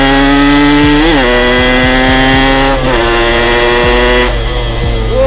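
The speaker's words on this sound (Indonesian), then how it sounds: "Gila, suara knalpotnya boy." A Yamaha motorcycle with a gutted stock muffler revs loud and close, with a deep bassy exhaust note that climbs in pitch, dips at each gear change and climbs again, steady for several seconds without talk.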